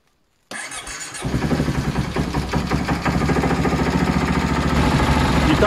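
A Stels ATV 600 Dinli engine cranks briefly, catches and settles into a loud, rattling idle that runs steadily close by, with no voices over it.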